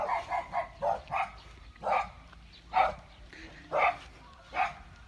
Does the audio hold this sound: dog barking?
yes